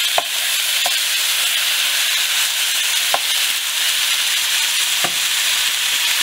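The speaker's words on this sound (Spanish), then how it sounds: "aquí vamos a empezar a revolver." Marinated mutton ribs sizzle loudly and steadily in a pan while a utensil stirs them, adding a few sharp scrapes and knocks over the constant frying hiss.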